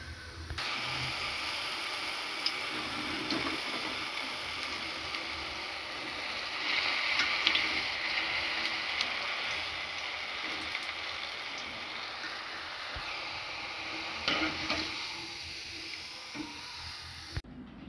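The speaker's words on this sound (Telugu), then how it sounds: "ఆలు చిప్స్కి ఇలా పట్టించుకొని బ్రౌనిష్ వచ్చినంత వరకు వేయించుకోవాలి" Potato chips frying in hot oil until brownish and crispy, a steady close sizzle and bubbling hiss with small crackles, continuing unbroken for the whole stretch.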